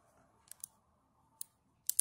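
Sharp metallic clicks of a revolver cylinder locking, two spaced pairs and a final quick cluster, close and isolated against near silence.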